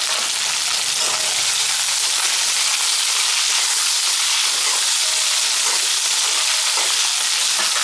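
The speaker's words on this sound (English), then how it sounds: "Now let's add small onions. Let's add in turmeric also." Small onions and turmeric fry in a hot pan with a loud, steady sizzle and hiss, bubbling oil crackling continuously up close with no voices.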